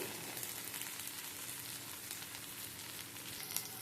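Ginger paste fries in a pan with a steady, fairly quiet hiss and sizzle that goes on unbroken throughout, heard up close with no talking.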